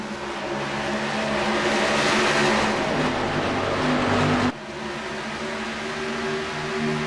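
Race cars run laps at Darlington in a Dash for Cash 100 event, a loud, continuous engine roar with steady droning tones that briefly drops and shifts midway.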